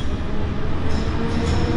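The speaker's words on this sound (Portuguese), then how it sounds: "Ó, o trem, chegou." Train arriving at a station in Switzerland, a loud, steady low rumble and rolling roar filling the platform, close and continuous.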